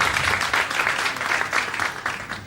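An audience applauds after a presentation at a World Consumer Day event, a dense sustained round of clapping from many hands, fairly close and steady throughout.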